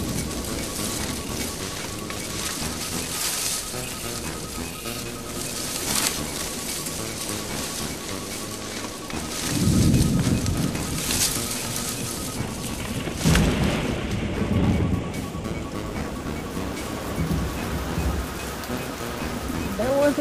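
Steady rain hisses throughout an Undertale comic dub scene, with two louder rumbling swells of thunder partway through, and no clear talk over it.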